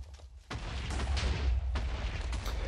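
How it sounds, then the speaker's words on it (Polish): In Minecraft with the explode mod, the largest explosion setting sets off a deep rumbling blast that kicks in after a quiet moment and rolls on as a heavy low roar with crackling bursts. "Ja włączyłem ten taki największy wybuch."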